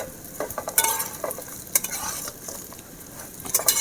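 Marinated rice for basanti pulao is gently fried on low heat while being stirred, producing a quiet sizzle broken by irregular spoon scrapes and clinks against the pan.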